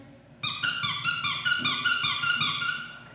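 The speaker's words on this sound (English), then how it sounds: "and squeaky toys." A squeaky toy squeezed rapidly over and over, a steady stream of shrill squeaks about four per second, loud and close.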